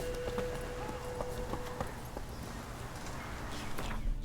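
Horse hooves clip-clopping at a steady walking pace in the video game The Witcher 3: Wild Hunt, moderately close, with a faint tonal hum early on.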